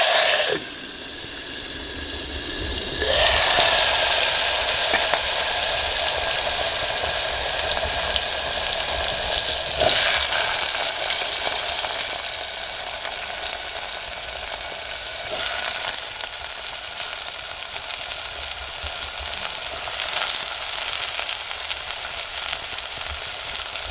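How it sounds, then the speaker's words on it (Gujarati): Bottle gourd hits hot cumin-tempered oil and sizzles loudly, a sustained hissing fry that settles into a steady crackle with occasional stirring. "હવે આપણે આ દૂધી નાખી દઈ વઘાર કરી નાખીએ"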